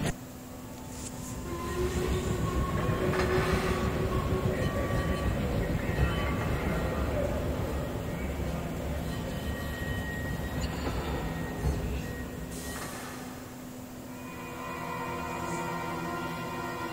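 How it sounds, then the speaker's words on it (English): A video game train travels between worlds, rumbling along steadily at moderate loudness with faint whooshes and clatter throughout, and no one speaking. "Although that wasn't my first time on the train, I'm still not used to how quickly it travels from one world to the next."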